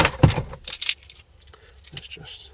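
Keys for a Renault Twingo GT jangle and clink close by in a few quick bursts before going into the ignition, with a person talking briefly in the background.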